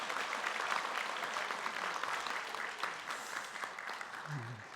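Sustained applause from a church congregation fills a Korean Sunday worship service, a broad, even wash of clapping that fades slightly at the end as a low voice begins.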